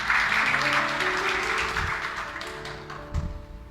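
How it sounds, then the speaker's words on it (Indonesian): A church congregation bursts into applause that is strongest at first and then fades, with soft instrumental tones lingering beneath the clapping. "Tepuk tangan buat Tuhan, saudara."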